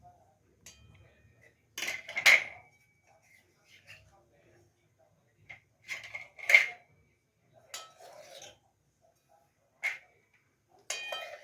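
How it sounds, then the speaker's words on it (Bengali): Fried milk-and-banana sweets set onto a plate with several light clinks and taps at irregular intervals, close and fairly quiet, with gaps of near silence between them. "এবার আমি প্লেটে এগুলো সাজিয়ে নিচ্ছি।"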